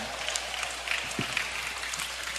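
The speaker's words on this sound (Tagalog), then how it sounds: "Ibalik po natin yung ating mga kamay na malayang nagpupurit, pumapalakpak sa Panginoon." Congregation members at a healing service clap their hands in praise, a steady, moderately loud patter of many hands filling the room.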